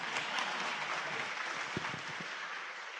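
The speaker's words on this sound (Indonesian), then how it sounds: "kalau mau tepuk tangan yang ikhlas Pak" A seated audience at a talk gives a short round of applause, a dense wash of clapping throughout with a few louder nearby claps standing out toward the end.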